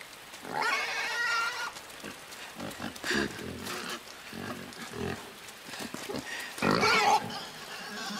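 Pig grunts and squeals from the video game Inside come in a few rough, nasal bursts, the loudest near the start and end, set against scattered game noise.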